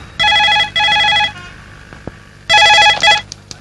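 A telephone bell rings loudly in two quick bursts, falls silent with a few soft clicks, then rings twice more.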